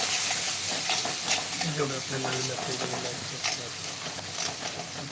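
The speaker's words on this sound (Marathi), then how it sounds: "तेलामध्ये खोबरं लसूण आद्रक आणि थोडेसे धने घेतलेली होती बारीक करून हे टाकून आहे" A ground paste of coconut, garlic, ginger and coriander fries in hot oil with a steady close sizzle and stirring scrapes, while a voice talks over the cooking.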